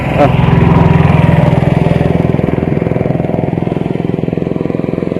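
A boat's motor chugs steadily and fairly close as the boat crosses a river from the bank toward the far side, a loud rhythmic engine throb that eases slightly in level after the first couple of seconds.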